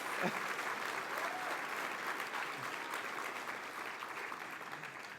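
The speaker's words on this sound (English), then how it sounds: "You can clap for that." Steady, even applause from a dinner crowd carries on for about five seconds, a broad wash of many hands clapping at moderate distance with faint voices underneath.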